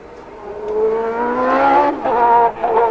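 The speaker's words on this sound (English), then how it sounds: "Michele's got the engine going again" A 1990 Formula 1 car at Monza, freed after beaching in a gravel trap, with its engine restarted: loud high-pitched revs that climb steadily, then drop and surge again in sharp bursts.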